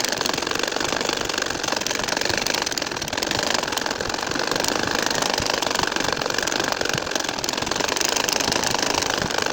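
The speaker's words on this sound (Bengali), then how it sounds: "আর একটা লাইন আমি তোমাদেরকে সেলাই করে দেখাচ্ছি" A household sewing machine stitches a nakshi kantha quilt, running as a steady, continuous mechanical whir with a dense rhythmic chatter throughout, fairly loud and close with no talking.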